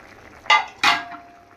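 Pieces of fried fish dropped into a pan of cooking potatoes make two quick splashy sizzles with pan clatter, the second followed by a fading hiss, close and loud against a quiet background.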